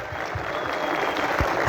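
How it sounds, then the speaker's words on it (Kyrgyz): An audience applauds an actress at the premiere of the Kyrgyz film Akcha, a brief burst of steady clapping from many hands at moderate volume. "Бул кызыбыз кол чаап коелу"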